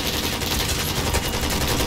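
Dense, continuous automatic gunfire in the video game Call of Duty sounds loud and close, a steady crackling barrage with no pauses.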